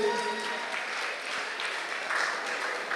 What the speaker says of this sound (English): A big round of applause for everyone in here today.